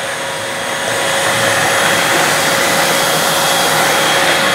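A Dyson V12 Detect Slim cordless vacuum cleaner runs alone at close range, starting up with a steady, loud motor whine that holds at full power with no talking.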